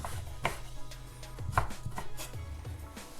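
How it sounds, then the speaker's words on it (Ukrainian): Knife slicing citrus zest into thin strips on a cutting board, a series of crisp, evenly spaced chopping taps heard close up. "І починаємо ось таким тоненькими полосками нарізати."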